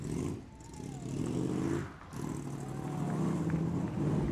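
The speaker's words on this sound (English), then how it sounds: "Let's hear this engine and you're off." A 1961 Chevy vintage race car engine roars and accelerates at a hill climb event, its pitch climbing and dipping between gear changes, loud and fairly close.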